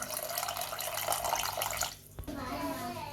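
Water poured into a pot of tangy rasam, a steady splashing stream that stops abruptly partway through, followed by quieter bubbling.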